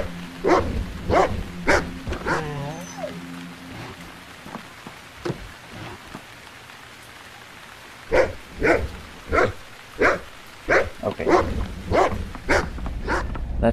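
A dog in The Cave video game barks in sharp single woofs, a cluster early on, then a gap, then a steady run of repeated barks, loud and close over a soft rain-like hiss.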